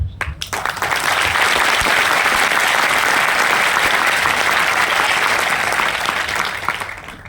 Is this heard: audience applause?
yes